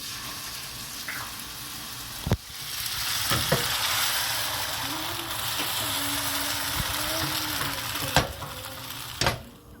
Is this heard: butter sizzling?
yes